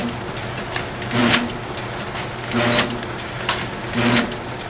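An OKI proColor pro900DP printer feeder runs a print cycle, giving a steady mechanical whir with a rhythmic surge of louder motor and roller noise about every one and a half seconds.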